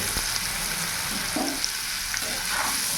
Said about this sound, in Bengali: ওলগুলো একটু ভাজা ভাজা করে নেব।